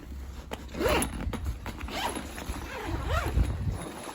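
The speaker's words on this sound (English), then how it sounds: "we do have double zippers, right? And then you can open this up" Double zippers on the laptop compartment of an insulated water-resistant backpack being pulled open, several close, raspy zipping strokes in quick succession with faint rustling between them.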